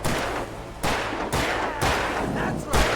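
Several loud, sharp gunshots from Alan Wake 2 ring out in irregular succession over three seconds, each a broadband crack followed by a brief echoing tail, with a tense game soundtrack beneath.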